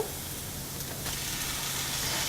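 Chicken curry masala with chopped tomato sizzles in a pan, a steady, even hiss of frying that continues without break and rises slightly toward the end.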